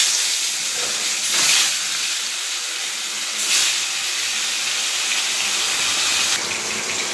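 Pangas fish sizzling as it is dropped into hot oil in a wok for a curry, a steady loud hiss throughout with brief louder surges, no talking.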